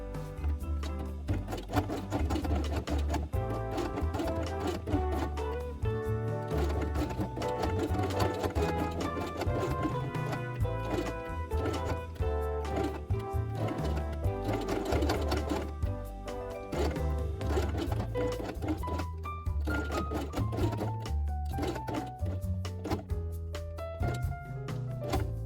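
A sewing machine stitches fabric with brown thread for a felt dollhouse book, running in a loud, steady, continuous mechanical whir with rapid needle pulses close by, without pause.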